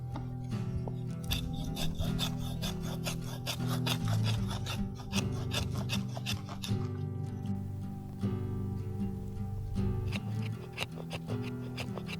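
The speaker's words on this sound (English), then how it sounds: "So now I'm going to shave off some of this bark, make some wood shavings" A French trade knife, worked with the back of its spine, shaves bark off wood into shavings in a rapid, steady scraping rhythm, close and continuous.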